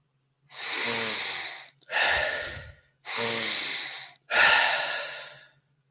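Deep breathing during a breathwork exercise: four long, close breaths alternating in and out, each a full airy rush with clear pauses between, no speech.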